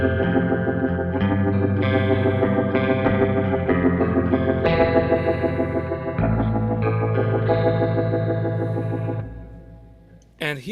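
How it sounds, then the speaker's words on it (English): Low-tuned baritone electric guitar chords played through a swirling rotary effect on a Kemper Profiler, thick and wobbling, sustaining for several seconds before fading out. "the Rotary, which also sound great with low-tuned guitars"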